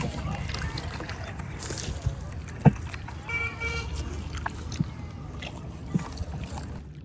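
Low rumbling of a boat moving over water in the evening with steady background noise, a brief toot and a few knocks, people talking faintly.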